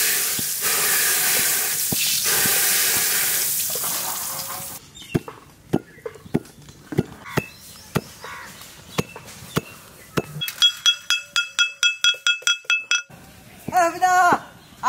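Mustard seeds and dry red chillies crackle in hot oil for a dal tempering, a loud, dense sizzle for about five seconds, followed by a run of sharp knocks and metallic clinks from the kitchen.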